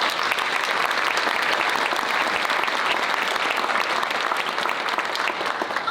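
A room of attendees at a Better Business Bureau of Baltimore morning event keeps up loud, dense applause for a full six seconds without letup.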